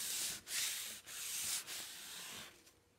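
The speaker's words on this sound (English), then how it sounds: "So you just buff on a little bit of wax." A cloth rubs wax onto a chalk-painted wooden pallet board in several back-and-forth buffing strokes, a soft close scuffing with short pauses between passes.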